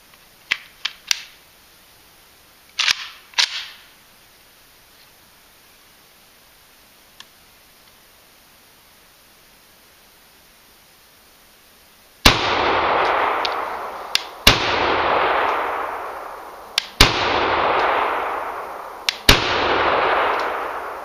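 An AK pistol fires four loud, sharp shots at roughly two-second intervals outdoors, each with a booming echo, following a few faint earlier clicks and handling noises.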